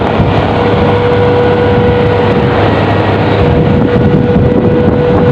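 A loud, steady engine drone with a constant hum and heavy wind rumble across the microphone, a motorcycle running while riding on the road.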